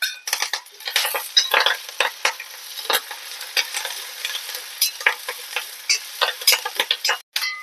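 Crushed garlic and curry leaves fry in a pan for a Kerala-style nadan curry, crackling in dense bursts with a spatula scraping and stirring through them, close and fairly loud with no talk.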